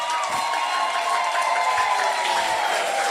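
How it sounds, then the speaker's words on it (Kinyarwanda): A church congregation bursts into applause, a dense, sustained wash of clapping and crowd noise with a faint steady tone running beneath, moderately loud and continuous. "Komera Imana amashyi, turahishiwe."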